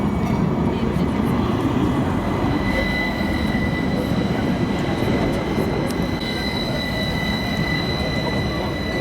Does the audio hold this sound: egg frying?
no